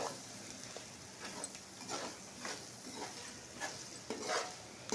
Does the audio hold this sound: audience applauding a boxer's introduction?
no